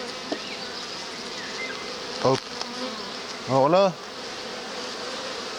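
Honeybees hum around an opened hive during an inspection, a faint continuous buzz behind someone speaking briefly in French, with a couple of short louder bursts of nearby buzzing.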